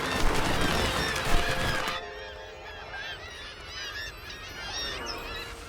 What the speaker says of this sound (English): In Iceland, the seabirds that thronged the cliffs are leaving.